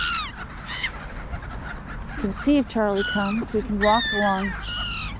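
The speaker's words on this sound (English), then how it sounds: "Look at the crows in there getting the grain and seed." Crows caw repeatedly in bursts while feeding on grain and seed, the harsh calls close and overlapping, with someone talking over them throughout.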